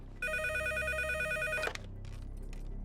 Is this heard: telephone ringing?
yes